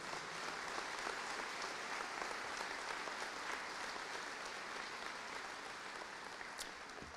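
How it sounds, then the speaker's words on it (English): Commencement audience at East Liverpool's 2022 graduation ceremony applauding steadily, a dense, even wash of clapping from a large crowd filling the hall, sustained without pause and with no talk over it. "Please give them a round of applause for their resiliency,"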